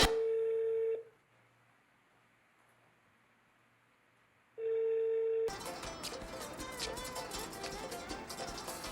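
A telephone line gives a steady electronic tone for a second, goes quiet, then the same tone returns before loud music abruptly takes over.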